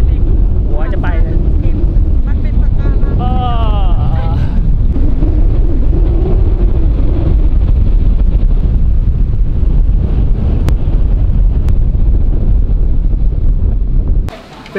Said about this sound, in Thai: ไปตอนนี้แบบลมแรงมากครับผม